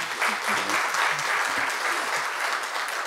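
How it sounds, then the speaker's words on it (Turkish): Audience applause fills a hall at a Turkish high-technology report launch, a steady dense wash of clapping lasting throughout, with faint voices underneath. "Zaten salondan nasıl alkış alacaklarını da gayet iyi biliyorlar."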